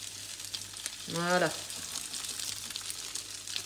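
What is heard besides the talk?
potato rösti frying in a pan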